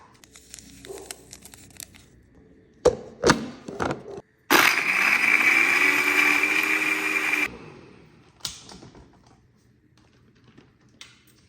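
A chocolate protein cafe mocha with cocoa powder and stevia whirs loudly in a blender for about three seconds, after a few sharp taps and clinks of ingredients going in, then a quieter clatter as it stops.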